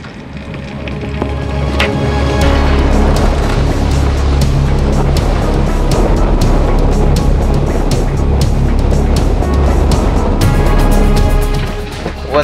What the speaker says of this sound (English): Wind's really starting to pick up now